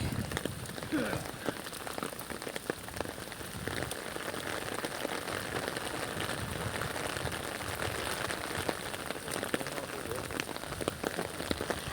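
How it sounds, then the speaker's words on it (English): Steady rain falls outdoors, a dense, even patter of drops on surfaces that continues without a break and with no voices over it. "it's so beautiful out here right now and it's raining"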